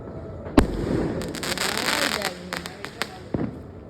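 Diwali fireworks near the sea go off with a sharp close bang, then a dense run of crackling bursts and scattered pops that trail away, with voices nearby.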